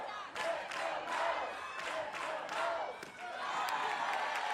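A crowd at an NCAA college softball game between Florida State and UCF cheers in repeated bursts of shouting and clapping, several rhythmic surges over a few seconds at moderate distance.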